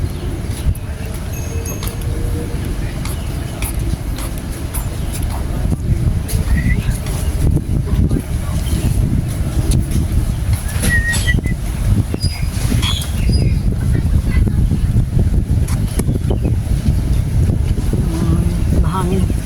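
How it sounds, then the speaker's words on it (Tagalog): Steady wind blowing across a seaside waterfront park, a constant low rushing roar with microphone buffeting. The wind runs through the whole stretch, and there are faint scattered sounds behind it. "Mahangin."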